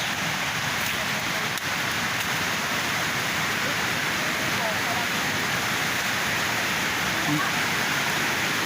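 A river rushes steadily, a dense broadband hiss of flowing water that stays constant and fairly close throughout.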